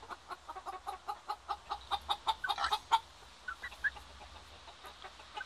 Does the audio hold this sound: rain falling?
no